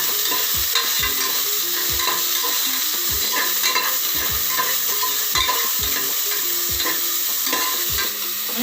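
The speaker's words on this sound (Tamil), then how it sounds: "வெங்காயம் வதங்கணும்." Sliced onions sauté in oil in a pan for brinji rice, giving a steady close sizzle broken by regular knocks and scrapes of a spoon stirring throughout, with no talking.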